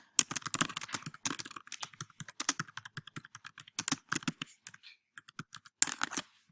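Rapid clicky typing on a computer keyboard, bursts of close, crisp keystrokes with a short pause near the end, heard alone without any voices.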